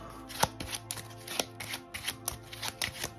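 A deck of cards being shuffled at a tabletop board game session, crisp riffling bursts repeating in quick rhythmic pulses, close and clear with no talking.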